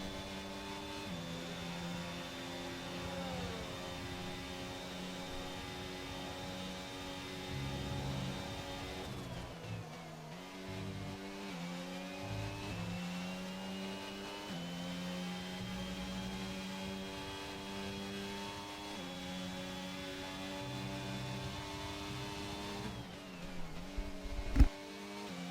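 A racing car engine in a racing video game holds a steady high whine as it pushes through a lap, with rising pitch sweeps on each gear change and no talk over it.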